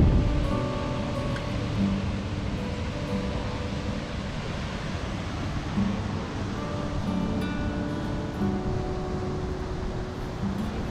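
A waterfall in Yosemite National Park gives a steady, dense rushing roar that holds evenly throughout with no voices.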